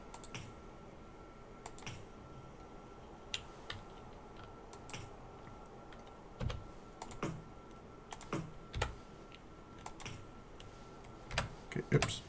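Typing on a computer keyboard in sparse clusters of quiet, close clicks and taps, with irregular pauses between bursts, over a low room hum.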